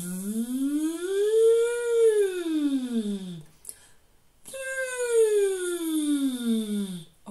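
A singer glides the voice up and down on a buzzing Z sound as a siren warm-up exercise, two smooth rising-and-falling sweeps separated by a short breath, close and clear with no other sound.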